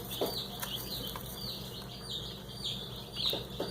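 Bantam chicks and chickens cheep and cluck in a steady stream of high, quavering calls, fairly close but soft, with a few brief scuffles and rustles among them.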